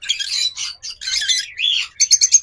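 Caged lovebirds, cockatiels, Australian doves and diamond doves chirp in close, loud, rapid bursts of high tweets, ending in a quick series of sharp chirps.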